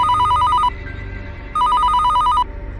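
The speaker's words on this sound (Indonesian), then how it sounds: "Dari dalamnya terdengar dering telepon." An old-model telephone rings in two loud bursts of rapid electric bell trilling separated by a short pause, used as an effect in a horror story set in a late-night office.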